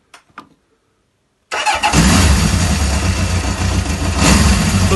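A small 50cc motorcycle fires up after a second and a half of near silence with a few faint clicks, then settles into a loud, steady, buzzing idle close by.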